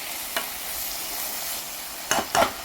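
Steady frying sizzle of bacon and kimchi in a pan, with a few brief scraping stirs near the end.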